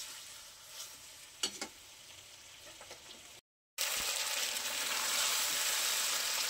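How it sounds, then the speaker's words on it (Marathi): Homemade pasta coated in spices stirred in a pan over low heat, giving a soft, steady sizzle with a few scraping stirs; the sound drops out briefly, then returns brighter and fuller. "मंद आचेवरच ठेवायचा आहे. आपण छान ते मिक्स करून घेऊया"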